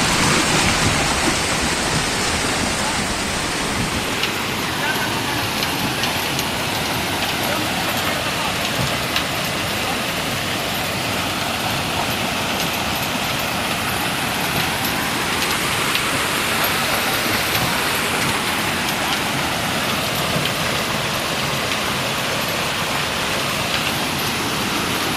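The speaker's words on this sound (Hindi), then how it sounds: "गाड़ी के अंदर पूरा पानी चल रहा है।" Floodwater rushes through a bus in Manali during a flood, a loud, dense, continuous roar of churning water filling the whole stretch without a break.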